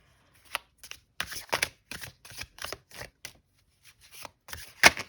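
Tarot cards being shuffled in quick bursts of riffling and tapping, close up, with brief pauses between shuffles and a sharper snap near the end.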